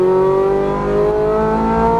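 A Ferrari 430 Scuderia accelerates on a race track, its engine a loud, steady, close howl that climbs slightly in pitch over two seconds, with no talking.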